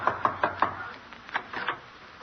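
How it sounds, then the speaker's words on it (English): Knocking on a door as a radio drama sound effect: four quick, close raps, then a few softer knocks, alone without talk. "I'll knock."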